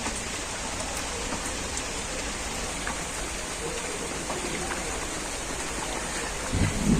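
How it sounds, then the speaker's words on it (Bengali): Water coming to a boil in a pot after rotis are dropped in, a steady, dense rain-like bubbling hiss that runs on evenly at moderate level, swelling slightly at the end. "আর দেখুন, জলটা কিন্তু ফুটতে শুরু করেছে।"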